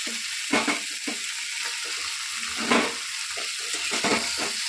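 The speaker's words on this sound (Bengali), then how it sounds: "এবার শাকটা দিয়ে দেবো।" Leafy greens frying in a pan with no added water, a steady close sizzle with rhythmic scraping and stirring strokes, no talk.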